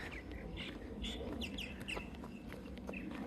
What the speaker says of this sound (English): Where's the chicken?